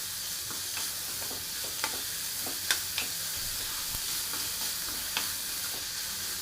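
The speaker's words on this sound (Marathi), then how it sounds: "छान असं कांदा नरम होईपर्यंत भाजून घ्यायचं" Chopped onion frying in a pan until soft, a steady close sizzle broken by light, scattered stirring clicks of a spoon.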